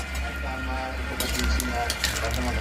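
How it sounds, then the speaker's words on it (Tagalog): A pot of coconut milk stew with snails and papaya simmers with a soft bubbling sizzle, a low hum beneath it and occasional light clinks of a spoon stirring. "Ayan, kumukulo na siya guys."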